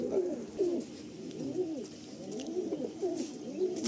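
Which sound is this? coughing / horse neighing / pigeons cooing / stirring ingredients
pigeons cooing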